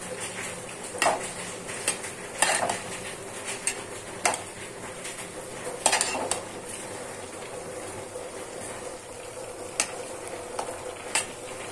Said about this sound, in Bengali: এখন লবণ দিয়ে নেড়ে ছেড়ে দেবো